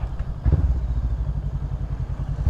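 A motorcycle passes on a high mountain road, a low steady engine rumble with a rough, pulsing putter that stays fairly faint and constant throughout.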